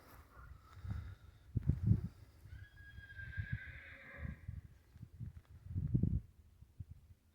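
A mare whinnies and snorts nearby amid soft hoof shuffling and stable noises, with repeated low snorts and a longer neigh in the middle.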